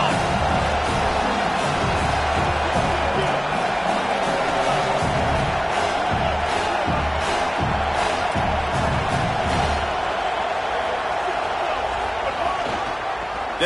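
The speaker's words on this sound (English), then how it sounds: "Here comes this home crowd as the defense tries to get off the field on 3rd down." A home crowd roars steadily through a college football game between Mississippi State and South Carolina on third down, a dense, loud wall of cheering that holds without a break from start to finish.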